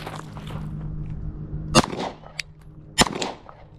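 Gunshots fired from a handgun at an outdoor shooting range, two sharp loud cracks about a second apart over steady background rumble, with a fainter pop between them.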